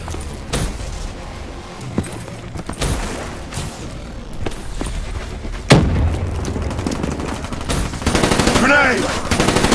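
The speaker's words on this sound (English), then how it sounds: "try this assault rifle has the fastest fire rate" HVK-30 assault rifle gunfire in a Black Ops III Demolition match, loud repeated shots and bursts layered over explosions, rising into a rapid automatic stream toward the end.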